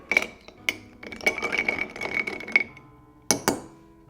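Glass clinks and taps from stirring an Old Fashioned whiskey cocktail in a glass, a handful of sharp bright chinks clustered close together, with a final pair of louder knocks near the end.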